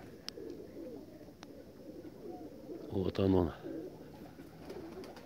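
A pigeon coos in a short burst of low throaty notes close by, set against faint outdoor ambience, with someone speaking briefly.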